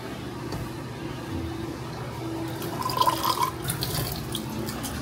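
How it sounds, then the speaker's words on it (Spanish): Water is poured into a pot of Dominican goat stew, a steady running, splashing pour under a background of kitchen noise, growing slightly louder midway. "Le voy a echar un chin de agua."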